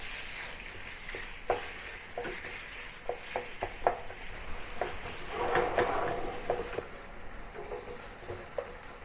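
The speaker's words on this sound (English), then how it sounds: "Loosen the pork and mix well together with the aromatic." Ground pork stir-fried with aromatics in a pan for rou zao fan, a soft sizzle broken by repeated scraping and tapping strokes of a spatula, close but fairly quiet, without speech.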